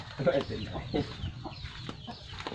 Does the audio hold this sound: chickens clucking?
yes